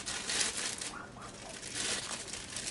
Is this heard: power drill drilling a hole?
no